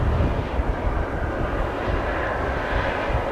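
A BBN Airlines cargo jet at Amsterdam Schiphol Airport gives a steady, broad engine roar that stays loud and even for the whole stretch, with no one speaking over it.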